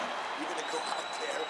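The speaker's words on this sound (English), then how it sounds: "So the crowd voicing its appreciation after that round." A crowd applauds and cheers after a round in the EA Sports UFC 4 fighting game, a dense, steady wash of clapping that runs throughout.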